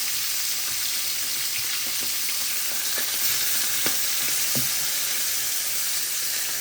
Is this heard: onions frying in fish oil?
yes